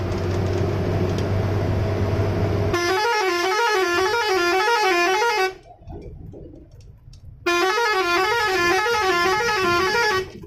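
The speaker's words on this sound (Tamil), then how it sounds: "பஸ்ங்களா ஹார்ன் அடிக்கிறது இல்ல லாரிங்களா?" A loud, warbling musical bus horn blares in long repeated bursts on the hairpin bends of the Dhimbam ghat road, cutting out briefly for engine rumble before sounding again, close by.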